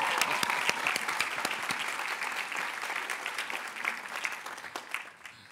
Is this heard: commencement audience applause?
yes